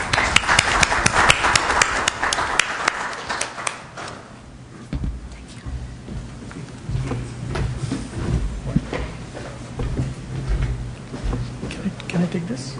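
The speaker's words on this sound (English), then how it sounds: "let's give all of us a round of applause" A conference audience applauds at the close of a maritime technology event, a dense patter of clapping that thins after a few seconds. Sparse claps and handling knocks follow, with people talking nearby.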